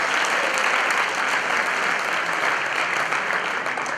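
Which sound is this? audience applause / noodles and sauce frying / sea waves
audience applause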